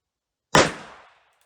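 A single sharp gunshot from a .38 Special revolver firing a Hornady 158-grain XTP handload outdoors in snow, loud and close, with a short decaying echo after silence.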